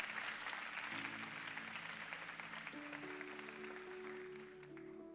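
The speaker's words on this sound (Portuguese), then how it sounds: "Vamos aplaudir o Senhor Jesus por isso." A church congregation at a youth worship service applauds. The faint, steady wash of clapping continues over sustained keyboard chords that shift pitch partway through.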